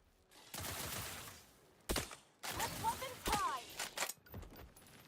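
Video game gunfire comes in loud, rapid bursts and single sharp cracks, with voices heard between the volleys.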